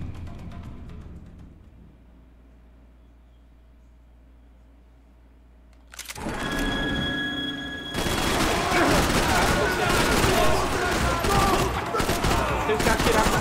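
Video game gunfire breaks out after a quiet stretch, with dense overlapping shots and bursts that grow louder and continuous, like a fusillade, under occasional game sound effects.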